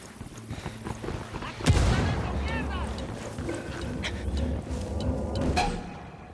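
A grenade blast with gunfire in the Ghost Recon Wildlands video game: one sharp, loud explosion, then a sustained rumble and scattered shots continuing for several seconds.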